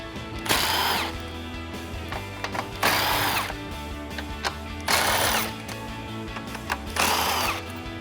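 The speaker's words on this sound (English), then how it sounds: "I'm switching over to an impact gun and a deep socket" An impact gun with a deep socket removing 10mm grille bolts on a 2014-2018 Chevrolet Silverado 1500, four loud close bursts of buzzing rattle separated by quieter gaps with small clicks.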